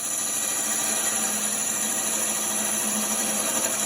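Wood lathe turning a mortar with a detail gouge: a steady, continuous whine and hum from the spinning workpiece with a faint cutting hiss, moderately quiet, held evenly throughout without talk.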